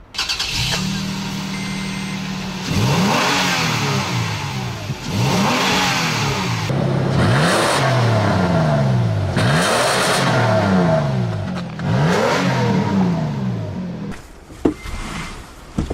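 A Toyota Tacoma pickup with a 4-liter V6 and five-speed automatic accelerating hard. The engine note climbs loudly, drops at each upshift and climbs again in repeated sweeps, then eases off at the end.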